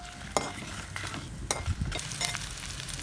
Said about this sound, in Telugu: వేయించుకుందామండి.